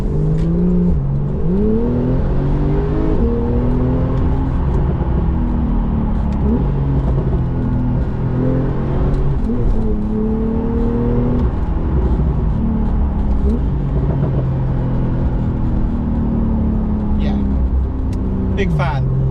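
A Porsche 911 991.2 GTS with a PDK gearbox and rear-wheel drive accelerates hard on a dry road during a test drive, its engine note climbing and dropping through gear changes in a steady, loud, close rumble that continues throughout.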